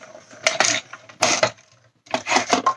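A die cutting machine cuts a small craft die used for a card accent, giving three separate bursts of clattering, rolling mechanical noise with short quiet gaps between them, close and fairly loud.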